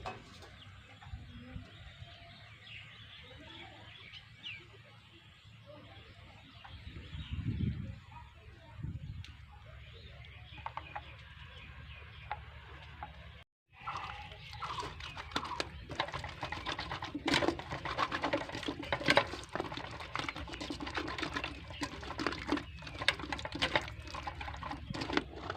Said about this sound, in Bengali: এবার এই কাঁঠালের রোয়াগুলোকে খুব সুন্দর করে এই চালনিতে চেলে নেব।